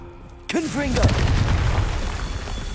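Confringo fire spell in Hogwarts Legacy: a sudden loud boom with a whooshing, ringing burst that decays into a rumbling tail, preceded by quieter ambient game sound and a short voice.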